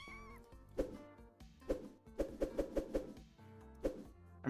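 A cat in the block game Minetest gives a series of short, quiet meows, several in quick succession, over soft background game music.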